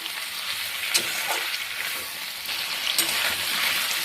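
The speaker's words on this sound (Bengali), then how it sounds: "ঝিঙে আলুটাকে একটু ভাজা ভাজা করে নেব।" Pieces of ridge gourd and potato fry in hot oil tempered with nigella seeds, giving a steady, close hiss of sizzling with occasional light stirring clicks and no talking.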